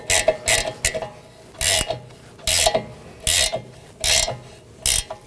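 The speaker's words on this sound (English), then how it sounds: "Once secured on the back, I have this one to install the nut." A ratchet wrench tightens a 15 mm rear sway bar link nut on a 2018-2024 Chevrolet Equinox in about seven crisp bursts of clicking with short pauses between them, close up and clear.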